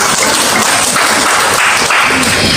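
Dense, loud applause from a large church congregation, continuous clapping sustained throughout without a break.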